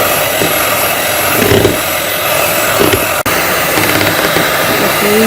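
An electric beater whirs loudly and continuously through a homemade butterscotch ice cream mixture, close up, with a brief cut partway through.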